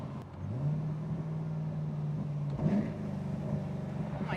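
A naturally aspirated 750 hp Ferrari 416 engine idles smoothly at 1,000 RPM with a steady low hum, a brief blip of revs partway through, then settles back to an even idle.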